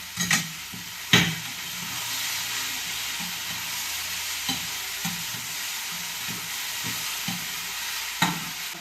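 Ivy gourd with onions and salt is stir-fried in a pan, a steady hiss of frying with repeated scraping knocks of a spatula at irregular beats, close and clear with no voices.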